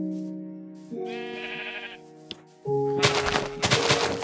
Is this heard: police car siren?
no